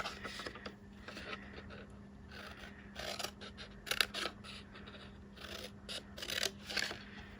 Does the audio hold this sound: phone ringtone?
no